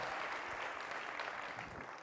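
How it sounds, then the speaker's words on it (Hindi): A congregation at a Christian worship service bursts into loud, sustained applause, a dense wash of clapping that holds steady for the whole stretch before easing slightly at the end. "जोरदार तालियों से खुदा के नाम पे जवाब दो"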